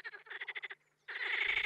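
Frogs croaking in a spring mating chorus on flooded meadows, rapid pulsed calls in quick bursts, a short pause, then a dense continuous chorus, close and clear.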